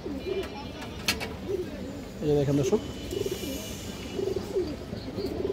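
Pigeons in a loft coo in low, throaty bursts that recur through the stretch. Someone talks alongside, and sharp clicks and a brief louder chirp break in.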